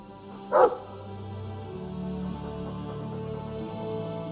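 A dog in the video game Dragon Age 2 gives a single sharp, close bark, followed by a low hum of game ambience.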